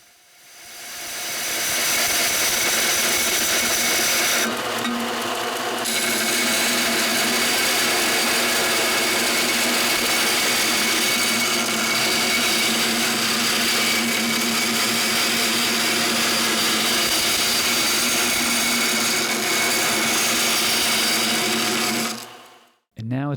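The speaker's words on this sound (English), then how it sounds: "I'm going to just go ahead and do that on the belt grinder here." Belt grinder shaping the sole of a Goncalo Alves wooden block plane, a loud steady abrasive whine that runs continuously for nearly the whole stretch, with a brief dip in tone partway through before stopping at the end.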